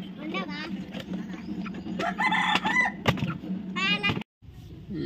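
Chickens on a farm squawk and cluck loudly up close in agitated bursts as one is caught, with people talking over them throughout.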